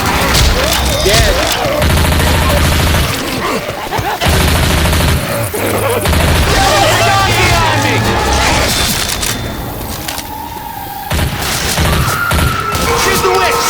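Dense bursts of automatic gunfire and explosive booms from the Left 4 Dead 2 zombie shooter, Hard Rain campaign, loud and nearly continuous with brief lulls, under frantic shouting voices.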